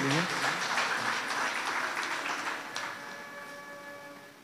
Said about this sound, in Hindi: एक बार जोरदार तालियां हो जाए लॉयंस क्लब के लिए।